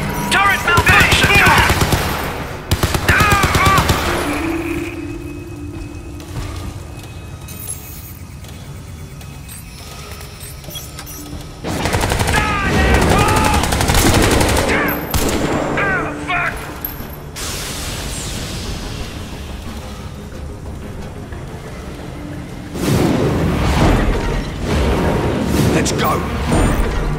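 A turret machine gun in Crysis 3 fires in loud, close bursts separated by quieter stretches where voices talk over low mechanical rumble.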